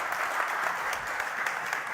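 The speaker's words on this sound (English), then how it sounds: "I think you deserve an applause for that." Audience applause at a presentation on an iron powder energy system, a steady, moderately distant patter of many hands clapping at an even level throughout.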